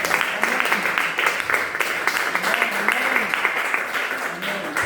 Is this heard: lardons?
no